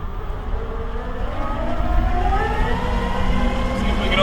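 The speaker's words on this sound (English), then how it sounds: "See if we can overheat some motors full load going up the hill." Engines strain at full load pulling a vehicle up a hill, a dense, loud, continuous drone with rising whining tones that climb steadily throughout and no break.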